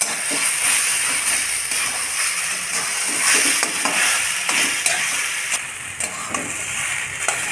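Taro cubes fry in a pan of hot oil with Kashmiri chili powder, giving a steady crackling sizzle with frequent scraping stir strokes throughout.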